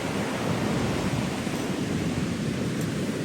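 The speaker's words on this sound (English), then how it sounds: "Man, look at these waves though." Large ocean waves churned up by Hurricane Erin crash on a New England beach, a continuous broad roar of surf and wind that stays steady and loud throughout, with no talking.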